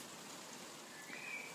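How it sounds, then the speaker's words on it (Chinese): Steady, soft rain falling outside under a shelter in a garden, a faint even hiss heard alone with a brief chirp near the end. "我给大家看看这雨吧。"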